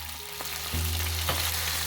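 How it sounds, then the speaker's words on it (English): Seasonings for ackee and saltfish sautéing in hot oil in a frying pan, a close, steady sizzle with a couple of brief stirring knocks. "in the frying pan to be sauteed. You have to keep stirring it so that the seasonings won't burn."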